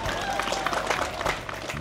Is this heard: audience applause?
yes